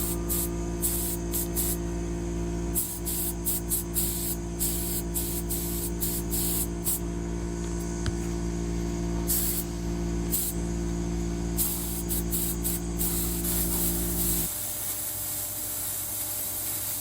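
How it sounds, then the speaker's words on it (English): Spray gun laying the first coat of paint on a trailer BBQ smoker, a loud continuous hiss broken by short trigger pulses, over a steady compressor hum that cuts out near the end. "Getting the first coat of paint on it."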